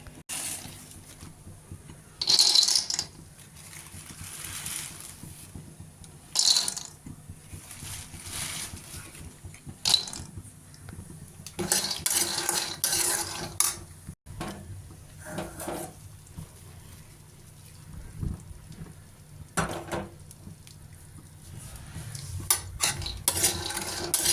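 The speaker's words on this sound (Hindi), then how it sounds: "ये रोस्ट कर लेती हूँ तब तक मूंगफली" Raw peanuts roasting in a pan rattle and scrape under intermittent stirring, with bursts of clinking metal and utensil knocks separated by quieter gaps, close by.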